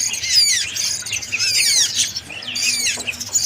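Two caged birds of unknown species give rapid high chirps and squawky whistles, overlapping in quick bursts at close range over faint background noise, with no talking.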